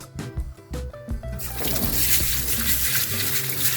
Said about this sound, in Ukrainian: зараз я його промию під проточною водою